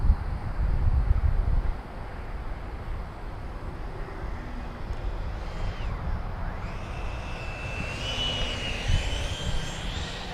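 An E-flite F-16 70mm electric ducted-fan RC jet comes in to land outdoors, its rushing whine passing with a rising and falling pitch over heavy wind noise, fairly loud and steady.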